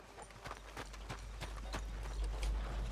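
Horse hooves clip-clop at a steady walking rhythm in Red Dead Redemption 2, several distinct thuds per second, fairly close and moderately quiet over a low rumbling background, with no talking.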